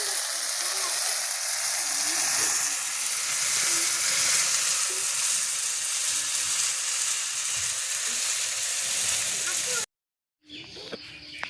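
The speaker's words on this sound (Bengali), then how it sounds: "করলা ভাজি বসিয়ে দিয়েছি।" Bitter gourd frying in a pan gives a loud, steady, close sizzle that runs unbroken, then cuts off abruptly near the end before faint other sounds.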